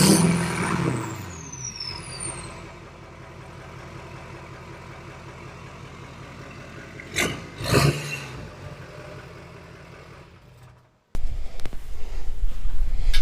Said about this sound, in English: Dylan is about to fire the truck up